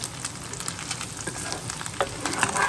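Butter sizzles and crackles in a pan around frying egg, a close, busy bed of popping and spitting with small scraping stirs on top and no talking.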